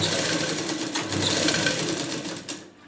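Sewing machine stitching blouse fabric, a steady close whirring run of rapid needle strokes lasting almost three seconds before it stops abruptly.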